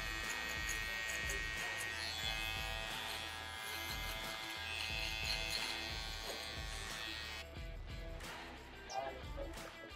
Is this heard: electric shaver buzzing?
yes